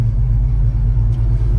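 The big block engine of a 1968 Chevrolet Chevelle Malibu idles at about 650 RPM on a cold day, a steady, loud, deep rumble with a smooth, even throb and no revving.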